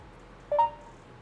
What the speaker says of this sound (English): Sorry, my phone just went off again.